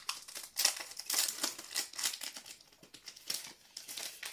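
A foil wrapper on a Pokémon Règne de Glace booster pack is torn open, giving quiet, close crinkling and crackling in irregular bursts, with no voices.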